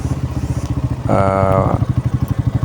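A TVS Ronin 225 motorcycle engine chugs at low revs with an even, pulsing beat, close and loud, briefly overlaid by a voice.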